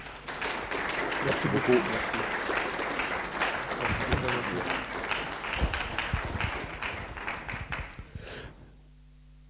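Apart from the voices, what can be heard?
audience applause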